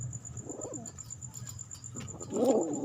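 Pigeons close by give soft, low throaty coos in two separate bursts, with a steady high insect-like whine in the background.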